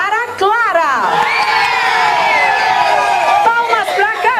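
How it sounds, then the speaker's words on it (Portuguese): A studio crowd on a live TV variety show cheers and whoops for a contestant named Clara, loud excited shouts and voices rising together, with a presenter talking over the noise. "Salva de palmas para Clara!"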